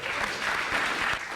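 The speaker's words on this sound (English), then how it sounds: "So give yourselves a big round of applause." A room of business conference attendees breaks into a short, steady burst of dense clapping that holds at an even level throughout.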